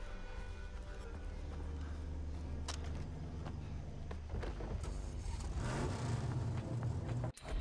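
A car engine in the video game Far Cry 3 hums steadily at a low pitch, with scattered clicks and clatter and a brief drop near the end.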